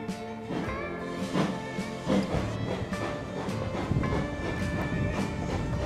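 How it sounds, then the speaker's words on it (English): A steam railway train on the GWSR rolls along with a steady rumble, rhythmic clanks and rattles from the carriage filling the ride. "Are you enjoying the train ride?"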